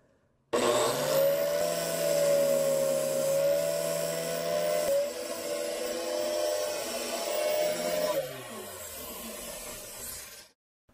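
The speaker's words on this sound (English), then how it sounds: "So once again, the sander has done a fantastic job." A power sander whirs steadily as it smooths the edge of a large wooden disc, a loud sustained tonal drone with rubbing texture that shifts partway through, then winds down and stops near the end.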